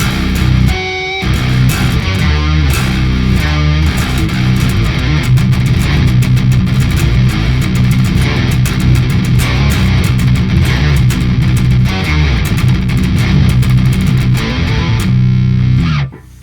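A heavily distorted electric guitar plays loud, thick drone doom riffs through a Headrush profile with Mesa and Ampeg heads, a deep octave-down layer beneath, continuous and close, ending abruptly.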